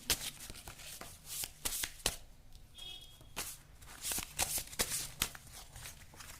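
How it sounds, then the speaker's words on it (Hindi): A deck of cards is shuffled to draw a card, giving a series of soft riffling slaps and flicks in uneven bursts, close and fairly quiet, with no talk over it. "एक कार्ड और निकालूंगी मैं आप लोगों के लिए"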